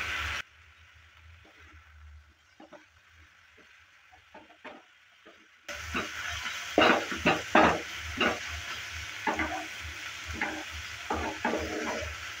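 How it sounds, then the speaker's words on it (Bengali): Methi (fenugreek) greens with garlic and salt being stirred in a frying pan, a quiet hiss broken by soft scrapes, then a louder sizzle with repeated sharp stirring strokes. "লবণটা দেওয়ার পর ভালো করে আবারও নেড়েচেড়ে নিচ্ছি।"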